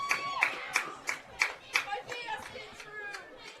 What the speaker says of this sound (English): The Tri-West fans were cheering